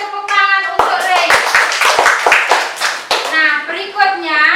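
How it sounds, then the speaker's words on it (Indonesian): Classroom of children clapping for a student after a recited pantun, a burst of sharp, close claps between stretches of kids' voices talking. "kita berikan tepuk tangan untuk Rei."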